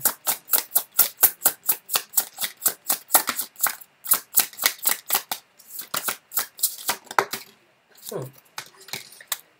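Tarot cards shuffled and drawn: a fast, steady run of crisp riffling slaps, close and loud, then a few looser card flicks and a brief sliding draw near the end.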